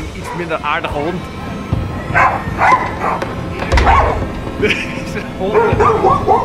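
A dog at a home with horses barks and yips in short repeated bursts, fairly close, mixed with people talking nearby.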